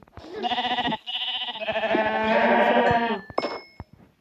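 Minecraft sheep bleating in a blocky game world, a string of loud, close wavering baas that run almost back to back and fade out with a few soft clicks at the end.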